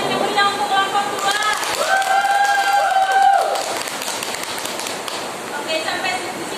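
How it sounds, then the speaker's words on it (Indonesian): A classroom group claps for a student group after a poetry presentation, a busy patter of hands with voices and a whistle-like tone over it, fading after a few seconds. "tepuk tangan yang meriah untuk kelompok 2"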